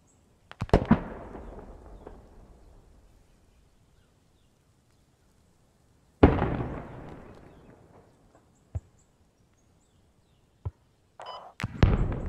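In the military shooter game Squad, tank fire and explosions boom sharply. A few loud blasts with long rumbling decays are spaced several seconds apart, with smaller distant pops between them.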